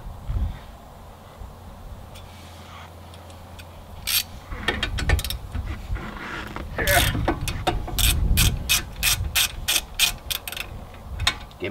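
Sped-up brake pad and rotor job on a Genesis sedan, with quick bursts of ratcheting wrench clicks and metallic clanks that build into dense, rapid, loud clusters toward the end.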